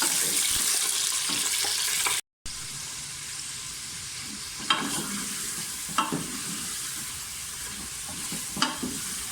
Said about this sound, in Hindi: पहले मैं गोश्त डालूंगी। थोड़ा सा फ्राई करूंगी इसको ताकि इसकी हीट वगैरह ख़त्म हो जाए